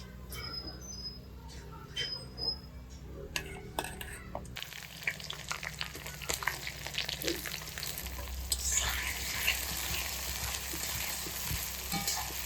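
Chopped onions dropped into hot oil for a village-style pork gravy, a sudden jump to loud crackling sizzle after light clinks, then steady frying with stirring scrapes close by, with some talk under it.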